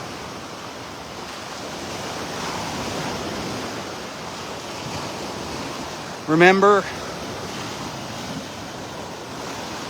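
Waves washing steadily onto a beach during sea turtle nesting season, a constant wind-blown surf hiss with a brief spoken word breaking in partway through.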